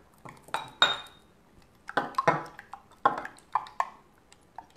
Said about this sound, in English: as you're adding your sodium tetraborate. And the reason for this is it will start to stick together. So make sure you are constantly stirring.